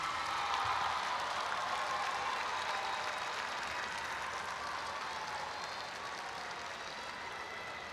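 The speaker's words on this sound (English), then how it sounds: "give your family and friends a round of applause" Sustained applause from a large crowd at a college graduation ceremony fills the space with an even, continuous wash of clapping that holds steady throughout.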